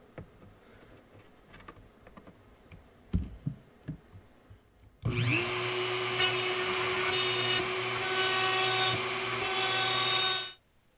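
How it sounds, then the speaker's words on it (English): After a few quiet clicks and taps, a power drill starts up and whines steadily for several seconds, loud and close, drilling holes in small stone Christmas ornaments, then stops. "Time to drill holes in the tops of the hats."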